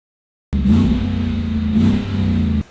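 A car engine revs through dual Magnaflow exhaust mufflers with a deep, clean droning tone, held steady for about two seconds with a slight swell in the middle, close and loud.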